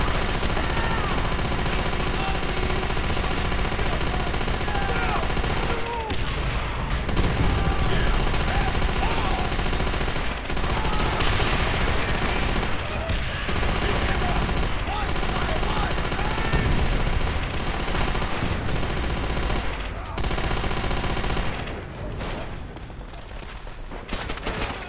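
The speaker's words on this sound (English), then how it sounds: "Get on that MG." Mounted machine gun in Call of Duty: World at War, on the Ring of Steel campaign mission, firing in loud sustained bursts with brief pauses amid dense battlefield noise, with a voice speaking over it.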